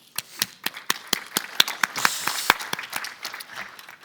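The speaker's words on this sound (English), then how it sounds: "And an applause for them." Sparse applause at a data strategy summit session: a few people clap in distinct, sharp, evenly spaced claps that build briefly into a denser patter before fading back to scattered claps, moderately quiet in a large room.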